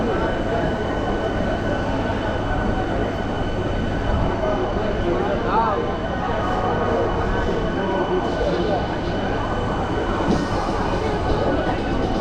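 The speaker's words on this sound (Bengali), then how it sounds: "হাওড়া স্টেশন ছেড়ে বেরিয়ে যাচ্ছে আমাদের ট্রেন।" A local train pulling out of Howrah station gives a continuous loud rumble of wheels and carriages with faint squeals, steady throughout, heard from inside among a crowd whose voices blend into the din.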